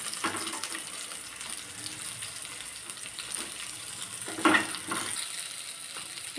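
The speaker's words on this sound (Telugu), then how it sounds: "ఇదిగోండి, పచ్చిమిరపకాయలు వేయించుకున్నాను కదా, అయిపోయింది." Green chillies fry in a pan for gongura pickle, giving a soft, steady sizzle with a few brief clinks and crackles, fairly faint and without talk.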